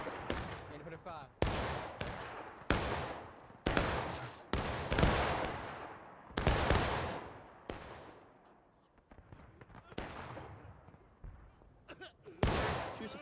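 Musket fire from Civil War infantry in War of Rights during a large historical-rules battle, a ragged string of loud separate shots with echoing tails, near and far, cracking over a quieter stretch of battlefield noise.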